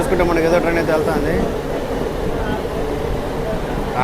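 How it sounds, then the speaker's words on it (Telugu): A MEMU passenger train runs from Renigunta to Kadapa in the rain, its steady rumble close and continuous under a voice talking. "సో ఇక్కడ చూసుకుంటే మనకి ఏదో ట్రైన్ అయితే వెళ్తుంది"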